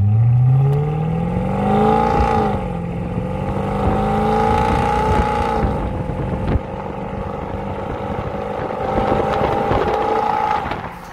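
A 334 hp car with quattro all-wheel drive revs hard and accelerates, its engine note climbing through the gears with loud, near exhaust roar and wind buffeting the microphone.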